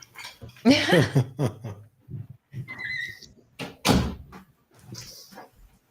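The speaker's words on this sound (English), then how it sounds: "I need to close my door" An indoor door closes with a muffled knock amid brief shuffling and handling noises, sounding near and fairly quiet, with short gaps of silence between the bumps.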